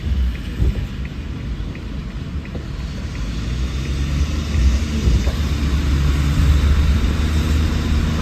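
Steady rain pours down around Tokyo Station's basement parking area, with a dense, continuous wash of noise and low rumbling that may be distant thunder, growing slightly louder toward the end.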